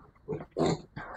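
A 38-day-old piglet grunts while being held up for weighing on a farm, three short close squealing grunts in quick succession.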